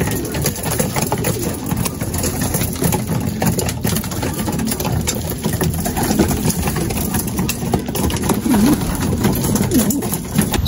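Racing pigeons coo softly and continuously near a steadily idling engine, their calls mixed into a dense, even background din.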